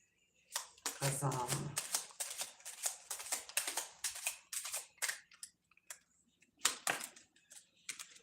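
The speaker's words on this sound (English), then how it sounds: "Okay, I was shuffling." Rapid, crackling bursts of tarot cards being shuffled close by, in uneven spurts with short pauses, and a voice briefly murmuring early on.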